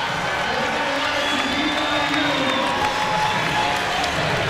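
A packed arena crowd roars and cheers steadily at a Hawaii versus BYU men's college volleyball match, a dense sustained wall of noise with whoops rising through it and faint talk underneath.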